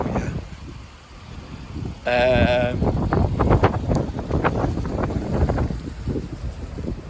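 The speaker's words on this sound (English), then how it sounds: "it's gone really windy now, so I apologise if you can hear me" Gusty wind buffets the microphone with a low, rumbling roar while a person talks close by.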